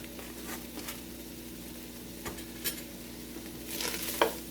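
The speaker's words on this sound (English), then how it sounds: "I'm going to stir that in" Meat sauce for lasagna being stirred in a pan after a sprinkle of garlic powder, with a faint sizzle and a few soft scrapes and a clink of the utensil near the end.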